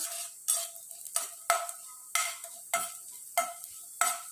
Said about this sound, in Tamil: கடலை பருப்பு இது எல்லாம் நல்லா பொரியட்டும்